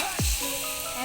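Sweet leaves fry in a hot pan with a bright, steady sizzle, close by, broken by one quick sweeping scrape or stir near the start.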